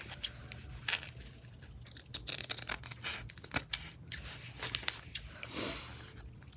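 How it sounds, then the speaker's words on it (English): Scissors snip through paper as a lace tag is trimmed around its edge, with a run of close, crisp cuts and rustles at an uneven rhythm, quiet and without talk. "I'm going to trim around the tag"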